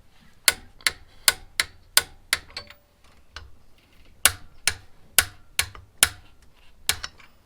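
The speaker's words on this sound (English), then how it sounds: "I'm going to take my torque wrench now, apply it, and crank this to 81 foot-pounds" Torque wrench clicking while a cam pulley is tightened to 81 foot-pounds on a 2002-2005 Toyota 4Runner engine, crisp ratcheting clicks in two quick rhythmic bursts, close and alone.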